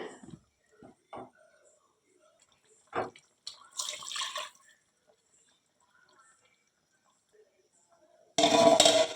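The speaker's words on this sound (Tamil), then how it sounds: "தேவையான அளவு தண்ணி சேர்த்துக்கோங்க." After scattered light clatter, water pours steadily and loudly into a cooking pot of curry for about a second at the very end.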